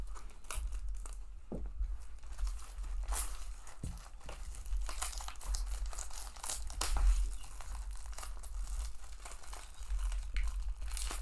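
An NBA trading card pack wrapper is ripped open close by, with a steady, fairly soft crinkling and tearing that runs throughout and a few sharper crackles.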